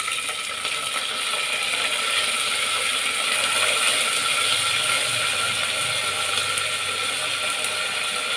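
Mustard seeds and curry leaves splutter in a hot pan, a dense loud crackling hiss that runs continuously at close range, steady without pauses, no talk.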